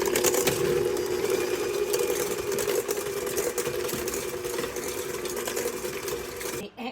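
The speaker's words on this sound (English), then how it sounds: "Now beat the ingredients together on a medium-high speed for 5 minutes" An electric mixer beats an egg mixture for cake batter at medium-high speed, a loud, steady whirring motor drone that holds constant from start to finish with a brief dip near the end.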